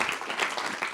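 Applause from a church congregation during a morning service: a short, steady burst of many hands clapping, moderately close and without talk.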